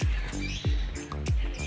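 A caged cucak jenggot bird gives loud, repeated harsh calls close by, with three strong descending bursts in quick succession.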